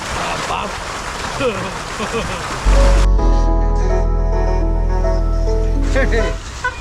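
Water gushes from a running motor pump, first as a broad noisy rush and then as a steady droning flow with a humming motor tone, close and loud, with someone talking over it at the start.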